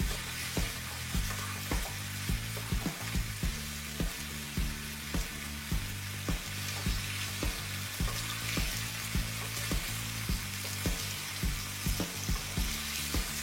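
Green peas with potato and cauliflower pieces sizzle steadily in a pan while a utensil stirs them gently, giving a regular rhythm of soft scraping taps over the constant hiss of frying, with no voices.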